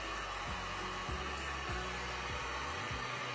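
Steady loud whooshing blower of a heat gun warming glue on a wooden western sign, a constant airy roar with faint low rhythmic thumps underneath.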